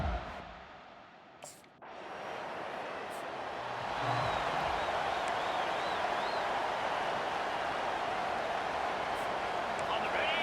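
Home crowd roaring in a virtual college football stadium during a Penn State Nittany Lions versus Army Black Knights playoff game, a broad sustained wash of cheering that swells after a brief dip, with a commentator talking over it.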